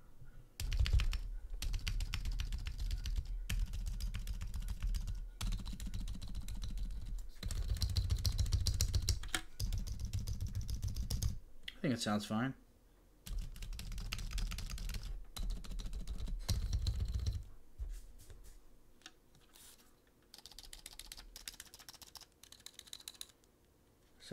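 Typing on a rebuilt Mojo 60 mechanical keyboard with cotton candy switches: bursts of close, crisp key clacks in uneven runs separated by short pauses, with one brief spoken remark partway through.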